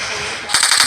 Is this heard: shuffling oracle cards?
no